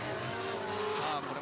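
A supercharged V8 drift car cornering at the Tsukuba round of the D1GP 2024 championship, a loud sustained engine roar with squealing tyres, heard up close under faint commentary.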